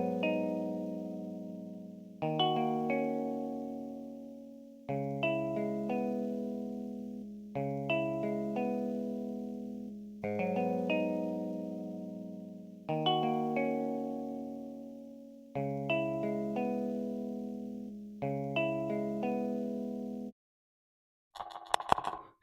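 Effected guitar samples for trap beats, a short melodic phrase repeating in looped chunks of about two and a half seconds, each starting with a plucked attack and decaying, with a brief glitchy burst at the end.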